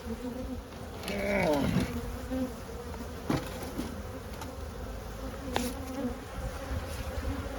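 Honey bees buzz busily around open hives being inspected, a dense close drone with louder individual bees zipping past the microphone and small clicks and taps, with no speech.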